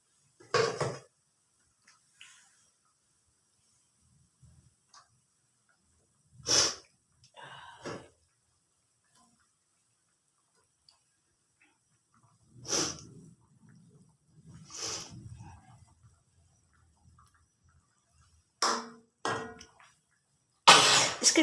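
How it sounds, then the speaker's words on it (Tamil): Several sharp sneezes burst out one at a time while stingray curry cooks, set off by a spicy sauce, with soft clinks of pots and utensils in the quiet kitchen between them. "இந்த சாஸ் வந்து உரப்பாக இருக்குல்ல, அதனால தும்மல் வருது."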